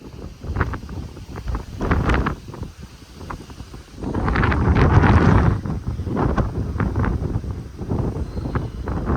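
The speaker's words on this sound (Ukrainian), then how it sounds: "ну вітер, блін, страшний. Я закриваю то мікрофон" Strong gusty wind buffets a microphone out in an open farm field, giving rough, rumbling bursts that swell loudest midway and keep pulsing without a break.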